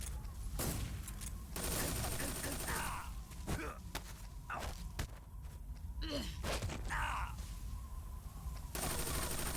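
The Boss's machine gun in Metal Gear Solid 3 fires in sharp bursts and single cracks spread across a tense boss fight, mixed with game effects and faint gasps, fairly quiet overall.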